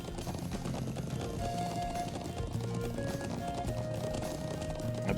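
Horse hooves clip-clopping steadily in the Trails of Cold Steel video game, a continuous rhythmic trot under game music, moderately loud and alone with no talk.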